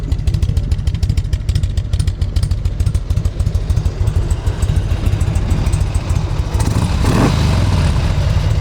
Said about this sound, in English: I love that carbureted lope.